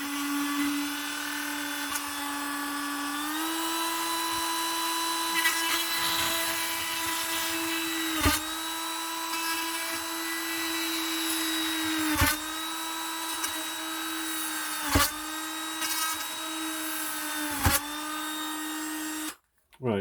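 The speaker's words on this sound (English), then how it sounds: "now I've drilled the holes in the corners" Small drill boring holes into the corners of a Scalextric Porsche 956 slot car body, a loud, steady high whine held for long stretches with several short clicks where it bites or stops, ending abruptly.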